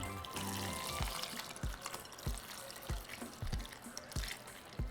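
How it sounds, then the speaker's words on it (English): Water is poured over strawberries in a bowl as a faint, steady trickle and splash, broken by several soft thuds at irregular intervals. "So just cover them with water."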